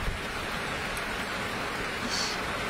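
Steady rain pours down continuously in a garden of blooming flowers, a dense even hiss filling the scene with no pauses, loud and close throughout.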